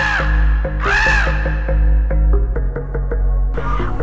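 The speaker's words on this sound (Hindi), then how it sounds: "कौआ काए काए कर रहा था।" A crow caws loudly in a rough, harsh call, answered by further clipped caws in a cartoon-style animated story setting. A steady low hum runs beneath the calls.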